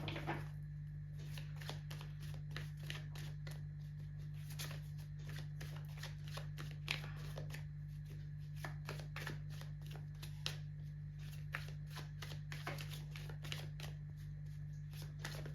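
Tarot cards are shuffled and drawn by hand in a quiet room, giving a steady run of soft riffling and flicking card sounds close by over a constant low hum.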